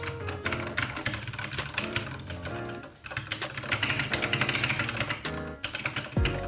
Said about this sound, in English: now I'm gonna press on the keyboard